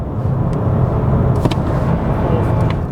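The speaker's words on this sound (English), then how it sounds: "Let's stick it down a gear." Steady engine drone and road rumble from inside a 2020 Volkswagen T-Cross SUV just after a downshift, a constant close hum without talk.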